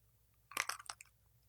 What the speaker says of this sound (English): That's a bad crunch.